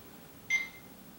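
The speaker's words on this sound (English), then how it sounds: "when it reads the temperature and is at a steady temperature, it will beep 3 times and give us the temperature." A digital thermometer gives a single short, clear electronic beep as it settles on a temperature reading, quiet and alone against faint room hiss.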